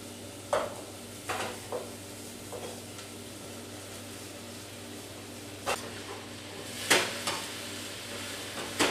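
Chopped cabbage cooking in a pot, a low background simmer with scattered stirring clacks and scrapes every second or two, quiet and without speech.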